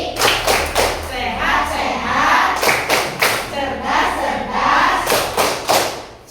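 Children clap a rhythmic 'tepuk apa kabar' chant in a classroom lesson, bursts of clapping and thumps mixed with their group chanting voices, fairly loud and close throughout.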